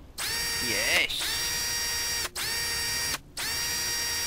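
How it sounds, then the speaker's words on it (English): In a video game, a power drill bores a hole in a wall, giving a steady high mechanical whine broken by a few short gaps. One brief spoken exclamation is heard partway through. "Oh, I've got a drill. Will that do the hole in the wall?"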